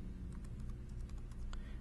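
Soft, quick keystrokes on a computer keyboard, a short burst of irregular taps and clicks heard close but faint against a low background hum.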